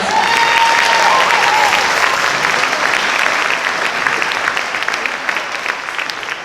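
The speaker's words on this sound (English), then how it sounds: "could we give Ivan another round of applause" An audience at an elementary school sixth grade band concert gives a drummer a loud, sustained round of applause that slowly thins out.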